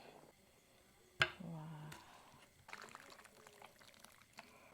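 Pork-rib noodle soup with kale poured out of a pot, a brief splash and trickle of liquid followed by lighter clatters and drips, quiet and close, with no clear speech.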